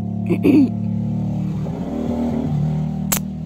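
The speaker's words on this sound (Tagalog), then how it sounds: "So, ang ingay na mga motorsiklo dito, mga palangga, grabe." Motorcycle engines rumble steadily throughout, with a louder rev near the start and a sharp high click near the end, running close by.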